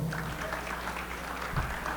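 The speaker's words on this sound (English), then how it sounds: "Let's clap it up for him." An audience at a sports Hall of Fame ceremony gives a steady round of applause, fairly faint and distant, a continuous patter of clapping hands.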